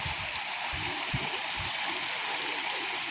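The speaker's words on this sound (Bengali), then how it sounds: "আমাদের জল আসছে" Water from a stream runs steadily through a garden in the Pahalgam valley of Kashmir, near a small wooden bridge, a continuous close rushing hiss with a few soft low splashes early on and no voices.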